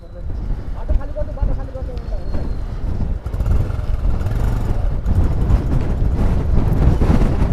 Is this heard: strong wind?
yes